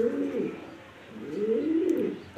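A large female pigeon coos close by in two distinct rolling bouts, with a short pause between them.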